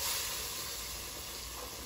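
Beans added to a hot pan with chorizo hiss and sizzle in a steady, soft, close wash of frying noise, alone and without talk.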